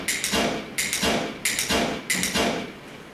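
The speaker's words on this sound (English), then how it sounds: "Watch as I shoot on some of these targets here." Shots striking targets in a shooting simulator at a shooting center, five sharp evenly spaced impacts about two-thirds of a second apart, each with a short decaying tail, no voices.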